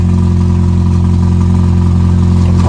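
A Honda Acura TSX Type-S car engine idling steadily and loudly up close, a constant low hum with no voices.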